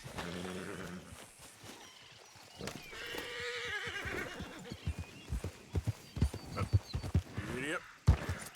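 Horse neighing in the Red Dead Redemption 2 video game, a whinny with hoof clip-clop, mixed with a player's voice talking over it and short loud bursts near the end.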